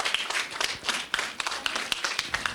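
An audience applauds at an inaugural ceremony of a meditation festival, welcoming a female guest. Steady, sharp hand claps come from many people at once, moderately close, with no voices over them.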